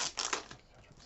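Plastic packaging is handled: a jiffy bag, bubble wrap and cellophane give a short, close burst of crisp crinkles and crackles that quickly fades.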